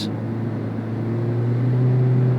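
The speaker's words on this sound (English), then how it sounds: "The drone of the engine, it sounds like the car is groaning in annoyance." A low, steady hybrid engine drone from a 2023 Toyota Prius XLE hums with a slight rise in pitch toward the end, smooth and continuous with no talking.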